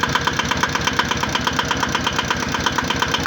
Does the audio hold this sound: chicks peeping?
no